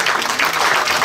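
Congregation at an ordination ceremony clapping steadily, a dense, sustained wash of applause filling the whole moment with no voices standing out.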